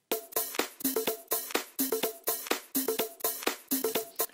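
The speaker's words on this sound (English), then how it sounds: "it's got a pretty strong hi-hat in there, which has actually got some pretty harsh peaks on it." Percussion top loop with a strong, harsh-peaked hi-hat under a high-cut filter, playing a steady repeating pattern of bright ticks and hits, close and moderately loud with no voices.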